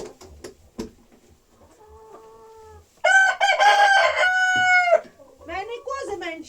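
Chickens cluck softly, then a rooster crows loudly and clearly nearby, followed by more clucking calls.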